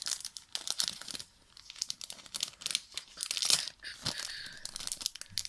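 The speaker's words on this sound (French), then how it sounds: "Ensuite, on va le déballer parce qu'on ne voit pas." Crinkling and tearing of a plastic-wrapped Disney scrapbooking package as it is opened up, close and busy, in irregular bursts of rustling with a few brief pauses and no talk.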